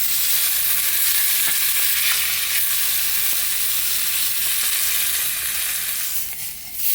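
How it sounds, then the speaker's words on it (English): Filet mignon searing in a hot pan, a loud, continuous hissing sizzle that holds steady throughout with no talking. "you want to sear around the edges. Sear for about 30 seconds."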